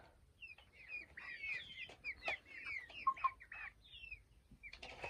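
Chicks chirping, a busy cluster of high, thin peeps overlapping one another at close range, fairly quiet, with soft rustling underneath and no talking.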